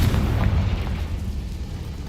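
A Confringo fire spell blasts in the Hogwarts Legacy video game, a loud booming explosion with a heavy low rumble that decays slowly over about two seconds.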